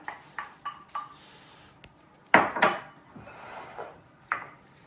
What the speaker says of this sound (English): now I'm going to beat my 2 eggs, or mix it with the fruit mixture